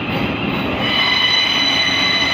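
A passenger train departs London Bridge on the route toward Horsham, its loud, steady rumble and rail noise holding constant throughout with a high-pitched wheel squeal ringing above it.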